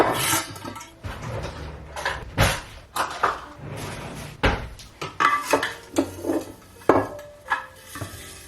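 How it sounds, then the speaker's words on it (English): Pots, dishes and cutlery clatter in a home kitchen while rice is started for dinner, with repeated sharp knocks, scrapes and clinks in an irregular rhythm, close and fairly loud, with no talk. "so we're starting rice."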